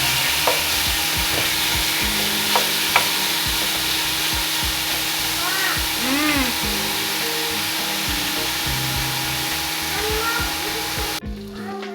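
Pork frying in a pan, a steady close sizzle broken by scraping stirs and occasional sharp knocks and clinks, with a faint voice briefly in the background, ending in a sudden cut near the end.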